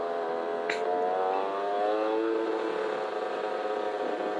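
Two-stroke motorcycle climbing a misty tea-plantation road, its engine droning steadily at sustained revs with a buzzy, layered tone, heard fairly faintly from the rider's position with a brief click near the start.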